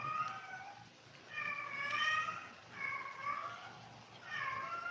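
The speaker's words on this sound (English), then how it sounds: "Got a cat in heat hollering out the window." A cat in heat meows and caterwauls from outside a window, giving four drawn-out wailing cries at an even pace. The cries are fairly faint and distant over a low background hum.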